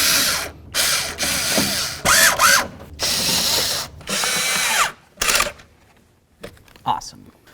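Power tool driving bolts into a door panel on a 1988–2002 GMC Sierra 1500 pickup, heard as several short bursts of whirring with ratcheting clicks and pauses between, close by, with some talk in between.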